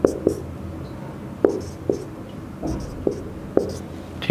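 Chalk or marker writing on a board in a classroom, heard as sharp, evenly spaced taps and short strokes, close and clear, with no talk.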